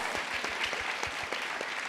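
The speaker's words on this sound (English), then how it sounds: "Okay, that's a clap." Audience clapping during an arts advocacy talk, a moderate, fairly distant patter of many hands with a few louder individual claps standing out, steady and without voices over it.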